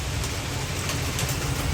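Steady, even rain pours down outside a shop, a dense close hiss with no pauses and no voices.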